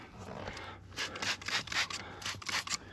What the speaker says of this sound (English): And where it holds down the mats, I'm just going to scrub that too.